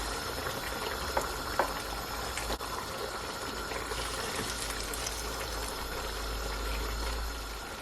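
A pot of water at a rolling boil for Jamaican steamed fish, a faint, steady bubbling hiss that holds evenly throughout with only a couple of small clicks.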